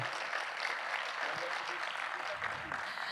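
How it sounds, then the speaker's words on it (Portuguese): Fairly faint round of audience applause at a mental health and well-being talk, a steady spread of clapping from a distant crowd. "Uma salva de palmas para mais uma decisão sábia."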